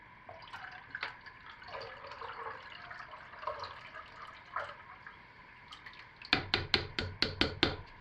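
Hot lye water mixed with titanium dioxide is poured into hot oil for hot-process soap. Soft drips and trickles come first, then a louder burst of splashing pour near the end, close by with no talk.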